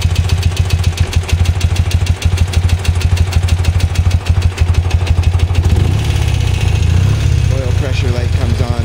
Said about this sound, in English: Oil pressure light comes on because it's idling too low.